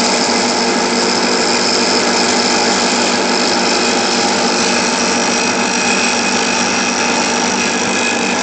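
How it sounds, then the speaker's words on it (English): A cutting tool grinds through soft copper metal, a dense, loud, continuous machining whine that holds steady from start to finish with no talk. "So there you can see we're chewing through the metal now."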